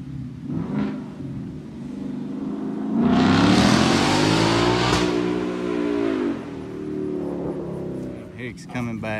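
A 2020 Ford Mustang GT fitted with a Pypes exhaust rumbles and revs at a distance outdoors, swelling to a sustained acceleration midway before easing back to a low burble, with wind noise throughout.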